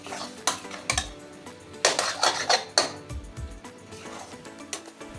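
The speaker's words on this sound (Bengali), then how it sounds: "এবার এটাকে আস্তে আস্তে আমি অল্প আঁচে কষিয়ে নেব" Green banana paste spiced with black cumin and asafoetida stirred in a wok over low heat, heard as repeated metallic scrapes and clinks of a spatula against the pan in uneven bursts, with no talking.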